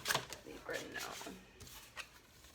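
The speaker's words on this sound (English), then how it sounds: "we're going to get one more shuffle." A deck of oracle cards is shuffled by hand, giving soft, papery riffling and slapping sounds, fairly quiet and close, with faint voice-like sound in the background.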